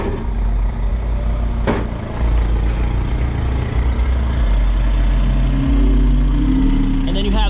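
A Subaru Sambar kei van engine idles steadily and fairly quietly, a low continuous rumble with a brief knock near the start and faint background noise.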